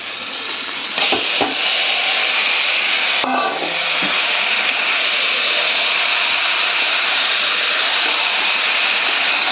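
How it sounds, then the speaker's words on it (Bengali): Goat meat marinated in yogurt hits a hot pan already holding chili powder and tomato, setting off a loud, steady sizzle with a few clattering stirs near the start. "এবারে মাংসগুলো ঢেলে দেব।"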